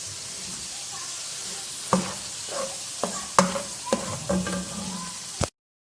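Boiled eggs fry in masala in a hot pan, a steady sizzle broken by several sharp spoon scrapes and knocks as they are stirred, close and clear, ending abruptly.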